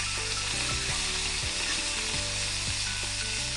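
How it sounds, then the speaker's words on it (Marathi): Pieces of narba fish, a pomfret-like fish, frying in hot oil give a loud, dense, continuous sizzle right up close, with a few soft thumps of stirring and no voices. "आपली नारबा फ्राय तयार झाली. आता आपण काढून घेऊया."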